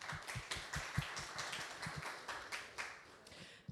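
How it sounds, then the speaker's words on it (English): A conference audience at SaaStanak 2025 applauds with a dense, steady patter of many hands clapping. The sound is fairly quiet and distant and carries on evenly without any speech. "I want everyone to give a round of applause to every single person here"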